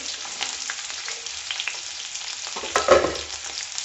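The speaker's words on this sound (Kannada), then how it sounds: "ಈಗ ಈರುಳ್ಳಿ ಹಾಕೋಣ, ಸಾಂಬಾರು ಈರುಳ್ಳಿ" Sambar shallots frying in oil over green chillies for a fish curry, a steady close sizzle with light stirring scrapes and a brief louder clatter near the end.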